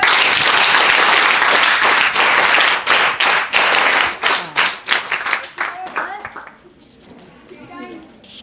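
A college audience at a lecture event claps together, first as a loud dense burst, then breaking into separate slowing claps that thin out and stop, leaving faint murmuring children's and adults' voices afterward.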